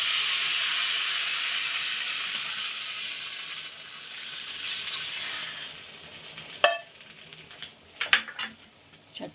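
A loud sizzling hiss from spices tempering in a hot pan for chutney that fades, followed by a few clinks and stirring sounds.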